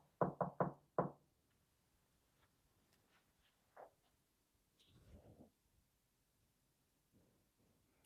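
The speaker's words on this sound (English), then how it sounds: "I'm going to knock the first part." Four sharp knocks on a wooden surface in a haunted hotel tap out the opening of the shave-and-a-haircut rhythm, three quick raps then a fourth after a pause, followed by near-silence with faint scattered sounds.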